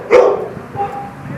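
A hunting dog at an animal shelter lets out a single sharp bark up close, followed by a softer whine or yip trailing off into quiet.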